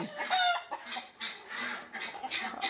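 Native country hens clucking close by on a poultry farm in short, uneven bursts, with several birds overlapping at a steady, busy level.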